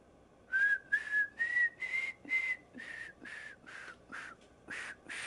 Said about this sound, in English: Can you whistle it back to me?